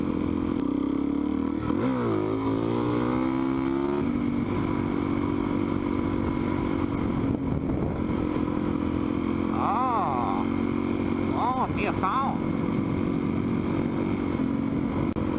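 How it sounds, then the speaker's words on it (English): A Supermoto motorcycle rides a trail in Idaho, its engine a steady close drone through the whole stretch, with rising revs early on and a few sharp whines and clattering bumps later. "luckily I'm on the Supermoto today, so I might find some alternate route that will allow me to get closer"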